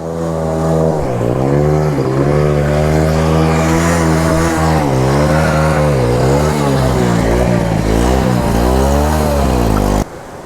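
A Hero Splendor motorcycle rides off-road through a forest, its engine loud and close, rising and falling in pitch as the throttle opens and eases over rough ground, then cutting off abruptly at the end.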